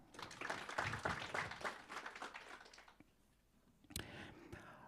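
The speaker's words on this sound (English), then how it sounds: "Please, let's just clap for them." An audience at a national planning indaba and young planners awards session gives exhibitors a brief round of applause, a faint patter of clapping that fades after a few seconds, followed by a few scattered claps.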